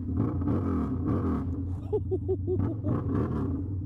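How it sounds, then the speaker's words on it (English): Water-cooled Harley-Davidson V-Rod motorcycle riding on the road, a deep, close engine rumble with a short burst of pulsing revs in the middle. "We'll go for a little spin on the bike itself."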